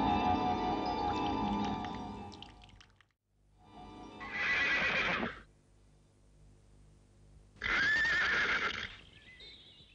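A horse neighs loudly and close, with a long whinny followed by two separate shorter bursts of neighing broken by near-silent gaps and faint low rumble.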